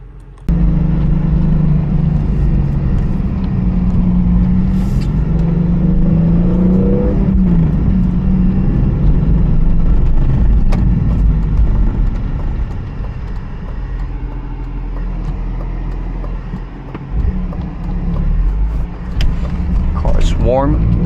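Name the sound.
BMW E46 M3 wagon engine while driving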